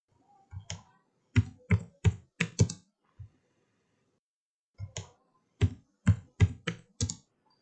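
Keys clatter on a computer keyboard in two quick bursts of close, crisp taps separated by a short pause, heard alone in a quiet room.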